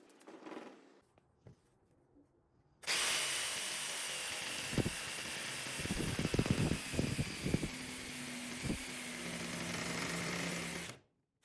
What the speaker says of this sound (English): I scooted the base to the edge and clamped it down so I could do a rough cut of the curve with my jigsaw.